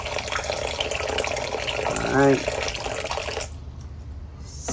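Water poured over RV toilet paper, a steady splashing rush for about three and a half seconds that then cuts off, with a brief spoken remark in the middle.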